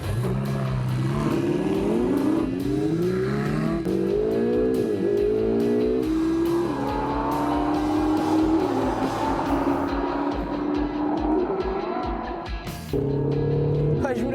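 A Ferrari and a Lamborghini supercar race each other, engines revving hard through rising and falling gear changes, loud and continuous, with the pitch climbing and dropping as the cars accelerate.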